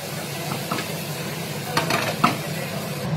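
Beetroot frying in a pan gives a steady soft sizzle, with a few brief scraping stirs and light clinks rising near the middle.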